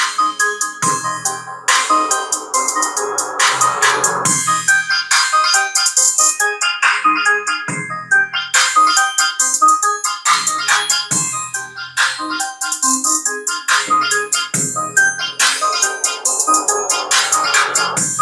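Music played through B2 Audio RIOT6.1 component speakers, a tweeter and speaker fed by a 100-watt four-channel amp through a crossover, loud and dense with sharp bright hits and a steady beat, no talk.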